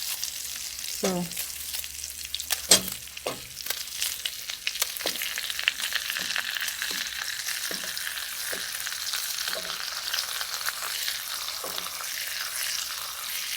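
Onion sizzles in a pot for a vegetable cookup, a soft steady frying hiss with a string of spoon clinks and scrapes against the pot, and a brief spoken word near the start.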